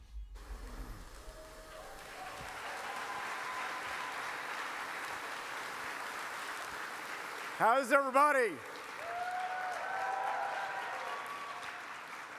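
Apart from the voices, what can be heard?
audience applause at a political event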